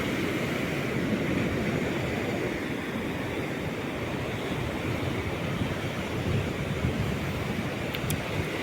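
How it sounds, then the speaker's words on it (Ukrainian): Sea waves roll in continuously at Salalah, Oman, a broad, steady surf roar with wind noise hitting the microphone, loud and unbroken throughout. "Море не вщухає, волни цілий день."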